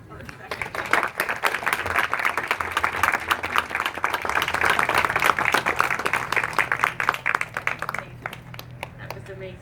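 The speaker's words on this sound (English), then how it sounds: "I think we should all applaud him right now for a second." Wedding guests applaud the couple at a ceremony, a steady wash of many hands clapping that holds for about eight seconds before thinning out, with voices mixed through the noise.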